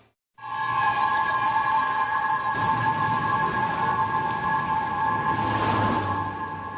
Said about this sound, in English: The target, the New York City subway system.